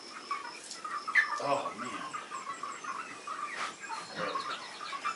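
Backyard chickens cluck and call softly around feeding time, scattered mid-distance clucks running throughout beneath someone talking briefly and some handling noises.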